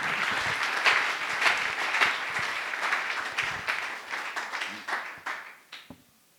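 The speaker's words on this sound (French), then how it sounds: "Est-ce que quelqu'un peut acclamer le Seigneur Jésus?" A church congregation applauds to acclaim the Lord Jesus, with dense, lively clapping from many hands that gradually thins and fades out to silence at the end.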